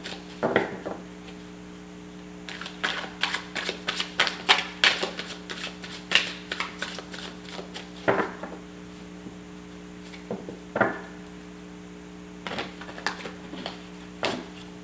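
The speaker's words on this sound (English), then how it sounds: "the reason for me doing a shuffle before every reading is to just be sure that you guys know that I am doing a fresh shuffle" Tarot cards shuffled in a quiet room over a steady electrical hum: bursts of rapid riffling clicks and flutters come in uneven clusters, with brief pauses and soft taps between them.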